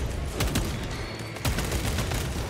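Bursts of rapid gunfire from Space Marine II, a sci-fi shooter game, crackling in short volleys with brief pauses between them, loud and close amid a busy battle din, with no one talking.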